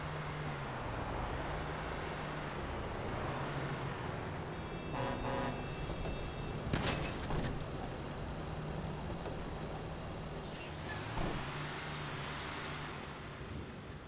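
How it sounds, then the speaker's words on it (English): A garbage truck drives through GTA V traffic with a continuous engine rumble and road noise, an air-brake hiss and brief tones or beeps partway through, and no talk. "So he stole a garbage truck."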